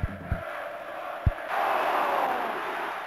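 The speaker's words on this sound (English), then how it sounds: "The Jaguar game has much improved crowd noise effects." Crowd effects from an Atari Jaguar sports video game: a few low thuds over a murmuring crowd bed, which then swells into a brighter, louder cheering roar that holds to the end.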